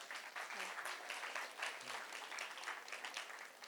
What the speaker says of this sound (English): Oh, everybody, applause for Tiffani.